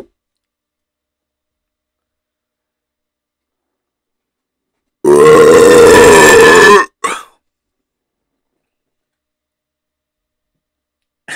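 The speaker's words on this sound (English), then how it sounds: "Was it because of the burp?" A single loud, drawn-out burp of nearly two seconds bursts out of silence, followed by a brief click-like sound and then quiet.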